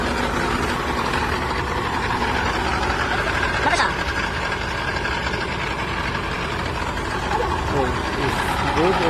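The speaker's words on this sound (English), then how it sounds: "We are running the pump." A pump runs steadily while inflating a JCB heavy equipment tire, a continuous engine-like drone that holds for the whole stretch, loud and close, with people talking over it.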